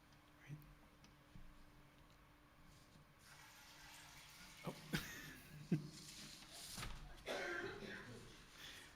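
Water poured into a large central vessel during a church water communion service, heard as soft splashing and trickling bursts amid faint room noise, a cough and quiet shuffling.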